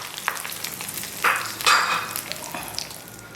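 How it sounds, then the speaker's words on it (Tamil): A tempering of spices sizzles in a pan for pirandai chutney, close and fairly quiet, with a steady hiss broken by a few short, sharp crackling bursts. "அந்த பிரண்டை துவையலுக்கு ஒரு தாளிப்பை போட்டுட்டா அவ்வளோதான்"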